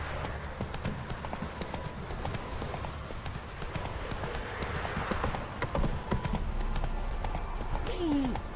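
Roach the horse trots in The Witcher 3, her hooves making a steady, continuous clip-clop against soft outdoor ambience.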